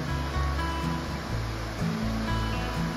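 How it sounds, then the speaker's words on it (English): Blanchard Springs waterfall, pouring from the caverns near Mountain View, Arkansas, gives a steady, full rush of falling water, with soft low music beneath it. "This is what gave us the beautiful Blanchard Springs waterfall emerging out of Blanchard Springs"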